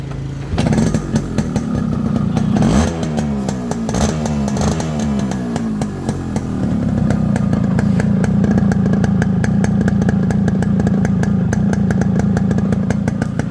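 A Yamaha RX 100 motorcycle, a two-stroke bike in fresh condition, starts up and keeps running at a steady idle with a few blips of the throttle, loud and close throughout, with no talk.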